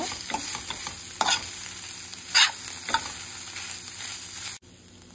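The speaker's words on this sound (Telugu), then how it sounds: "ఇప్పుడు రైస్ యాడ్ చేసిన తర్వాత చాలా బాగా మిక్స్ చేయండి." Cooked rice is mixed into a quick diet fried rice in a hot pan, with a continuous sizzle and a few scraping spatula strokes, close and moderately loud, ending in a sudden drop to quiet.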